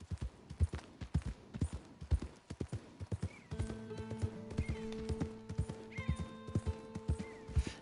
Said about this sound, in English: it's really helpful to call your horse like that in this game.